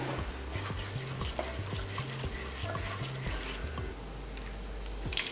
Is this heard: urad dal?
yes